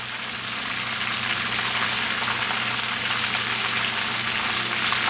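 Fish frying in hot oil in a pan, giving a steady, dense sizzle with no pauses that stays close and loud throughout. Nobody speaks.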